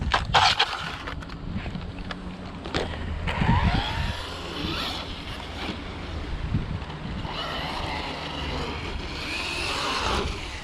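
A Hosim X07 brushless RC car running and rolling over outdoors, a steady whirring motor with rough tumbling clatter and wind buffeting the microphone, no one speaking.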